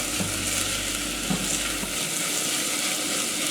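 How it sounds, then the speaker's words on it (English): Minced garlic and onions sweating in a pan, giving a steady close sizzle with soft crackles and faint stirring throughout, a low hum dropping away midway. "we're just going to sweat this with the onions"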